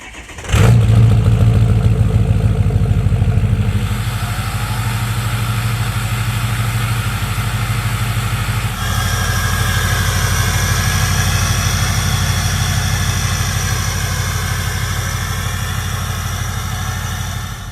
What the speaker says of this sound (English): Let's go ahead and begin with a nice little cold start